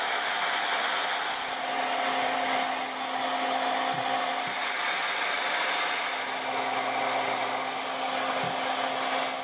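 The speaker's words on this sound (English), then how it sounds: "trying the hairdryer method" A hair dryer blows steadily for the whole stretch, a loud, even whoosh of air with a constant motor hum and no talking.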